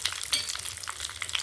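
Cumin, a handful of curry leaves and turmeric frying in hot oil, a close, steady crackling sizzle with bright spitting pops throughout, no talking.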